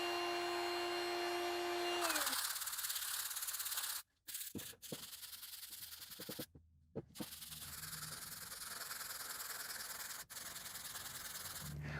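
Sanding black walnut for a guitar nut-file holder, a steady abrasive rubbing hiss that starts after a short tonal whine, with brief pauses in the middle and then continuous friction.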